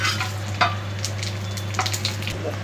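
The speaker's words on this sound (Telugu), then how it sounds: "బిర్యానీ ఆకు యాలకులు చేపత్రి స్టారు ఏలక్కాయి లవంగము షాజీర వేసేస్తున్నాం" Whole spices, bay leaf, cardamom, cloves and shahjeera, sizzling in hot oil for a prawn gongura biryani, a steady close crackle with scattered sharper pops and a low hum beneath, no voices.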